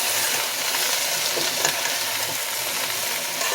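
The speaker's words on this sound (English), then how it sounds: "Stir it well." Vegetarian tofu and bean curd curry being stirred gently in a single pot, a continuous close sizzling hiss with soft scraping, steady and dense throughout with no voices.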